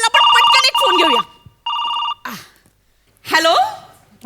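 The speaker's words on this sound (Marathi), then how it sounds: "लगेचच प्रेक्षकांचा फोन आला." An incoming call sets off a telephone ringtone in repeated bright electronic bursts, with voices talking in between and after, during a Marathi comedy show.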